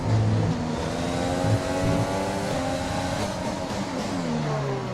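A Formula 1 car in the F1 2020 racing game powers down a straight, its engine a loud sustained high-revving whine with rising and falling tones throughout.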